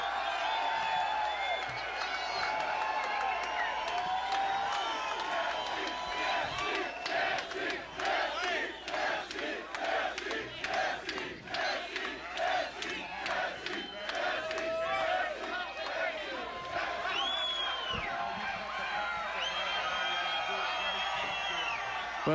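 A large crowd at a politician's election victory party at Canterbury Park cheers and shouts continuously, loud and roaring, with a voice speaking over the noise.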